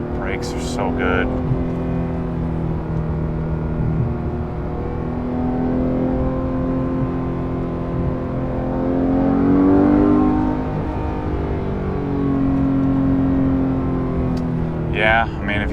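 A Porsche GT3 Touring engine revs high inside the cabin, its tone climbing and falling through gear changes with a louder surge midway, while people talk over it.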